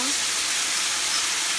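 Honey sriracha sauce hits browned tofu in a hot pan, producing a sudden bright hissing sizzle that holds steady and fairly loud through the brief moment.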